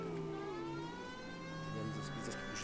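Police siren wailing in the video game L.A. Noire, a steady tonal wail with rising and falling pitch sweeps running continuously throughout, loud and close.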